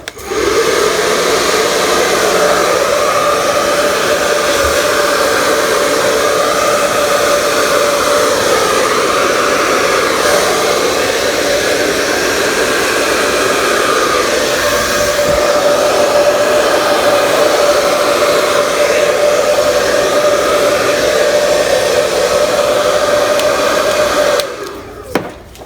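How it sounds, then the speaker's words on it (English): A hair dryer blows hot air over resin in a Dutch pour, a loud, steady, close whooshing roar with a constant whine that continues for about 25 seconds before switching off abruptly. "And here goes with the hairdryer."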